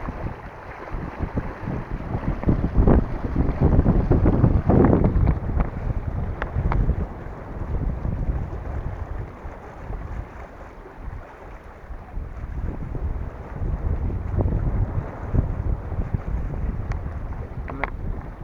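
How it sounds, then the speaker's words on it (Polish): Strong, uneven wind buffets the microphone in surging gusts while sailing on a lagoon, with water rushing and a boat creaking underneath, loud and close for the whole stretch. "wiatr jest bardzo nierówny"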